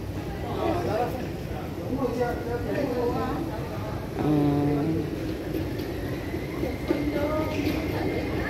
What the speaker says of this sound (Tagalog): Ayan yung train na sinakyan ko.